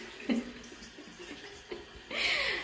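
Water runs from a tap in a bathroom in Rome, a soft splashing stream that grows louder toward the end, with faint handling noises before it.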